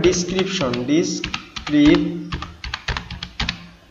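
Rapid computer keyboard typing in uneven bursts of clicks, close and fairly loud, with a voice speaking over part of it.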